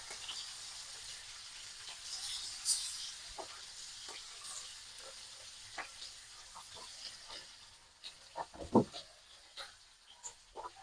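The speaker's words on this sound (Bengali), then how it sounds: "তো আমি লাল লাল করে মাছগুলো ভেজে নিচ্ছি" Fish fry in hot oil in a pan, a quiet steady sizzle with soft crackles and a few scraping touches from a utensil, heard close and without talk.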